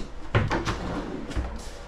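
A freezer drawer beneath an EverChill refrigerator in a new Heartland fifth-wheel RV slides open or shut, giving a few quick, close rattling thumps with a brief scrape between them.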